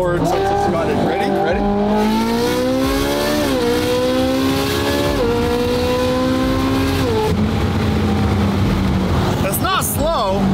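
A 2013 Ferrari 458 GT3 widebody race car engine revs loud and close, its pitch climbing in repeated surges through the gears with brief drops between shifts, then a final sharp blip.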